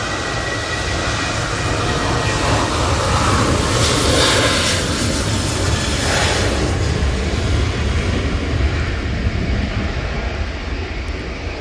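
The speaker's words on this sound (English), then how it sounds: "Off to Venice we go with this Jet2." Jet2 airliner departing Manchester Airport for Venice in stormy weather, a loud continuous jet engine roar swelling through the middle of the take-off run and slowly easing as it climbs away, with wind noise and no voices.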